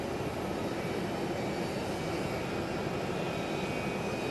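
An airplane passes over Sky Harbor airport during a storm, a steady loud jet roar filling the whole stretch without pause or voices.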